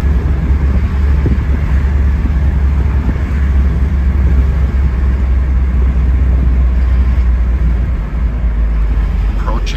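A red 1991 Alfa Romeo Spider Veloce pulls hard through the gears, its engine droning steadily under heavy road and wind rumble from inside the cabin, sustained and loud throughout.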